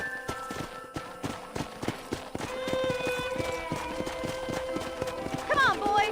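Horse hooves clip-clop steadily in the Red Dead Redemption video game, a regular trotting rhythm heard close up throughout, with musical tones and game ambience underneath.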